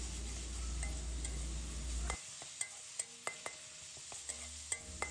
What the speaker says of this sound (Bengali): তো সব কিছু দিয়ে ভালো মতো আমি কষে নেব